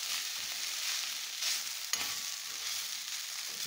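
Chorizo sizzles and fries steadily in a hot pan, a continuous close crackle with a brief stir or clatter near the middle, no voices.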